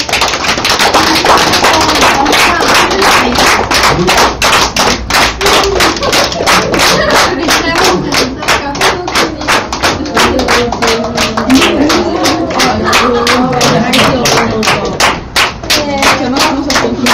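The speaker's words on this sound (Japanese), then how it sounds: "手拍子お願いします。" An audience claps along in a steady, fast rhythm at a Japanese beatbox competition results announcement, loud and sustained, with crowd voices and cheering mixed underneath.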